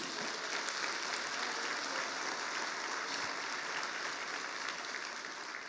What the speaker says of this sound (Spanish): Le damos un aplauso al Señor si lo creemos